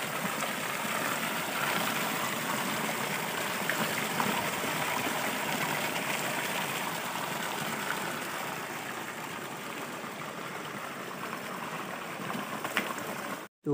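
Continuous broadband rush of flowing stream water, steady and fairly loud throughout, with no voices.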